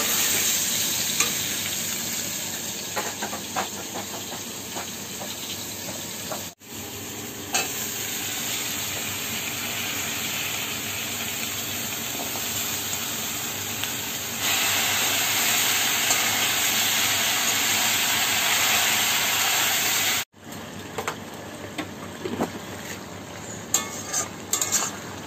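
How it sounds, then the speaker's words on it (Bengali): Malabar spinach (pui shak) cooks in a pan with a steady, close sizzle and frying hiss, broken by scraping stirs, with two brief drop-outs and a louder, brighter sizzle in the middle. "এটা পুঁই শাকটা রান্না হচ্ছে,"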